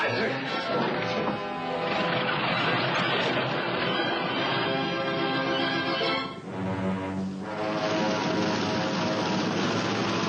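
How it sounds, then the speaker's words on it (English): An airplane takes off, its engine roar loud and continuous across the clip with a brief dip midway, set against a dramatic television soundtrack. "He's just taken off in your plane."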